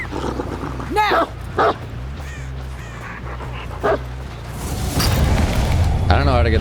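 Dog in the Dead by Daylight video game gives a few short, loud barks, spaced apart over a rumbling game background. Voices are also heard in the clip.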